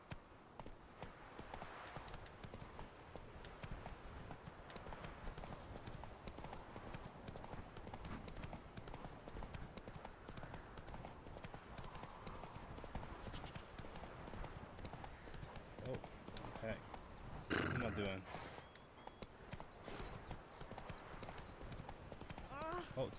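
Roach, Geralt's horse in The Witcher 3, trots with a continuous rhythmic clip-clop of hooves, a brief whinny breaking in near the end, with someone talking over the steady gait.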